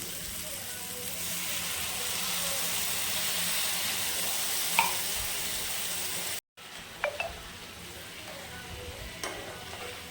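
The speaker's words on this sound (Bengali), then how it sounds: "এবার আমি এর মধ্যে দিয়ে দেব জল।" Water poured into fried spice masala sets off a loud, steady sizzle and hiss in a pan, continuing for several seconds, then after a brief gap settling into softer bubbling with a few small clinks.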